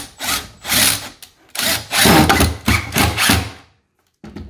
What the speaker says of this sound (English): the way to cheat a little bit is just take a drywall screw from the side here.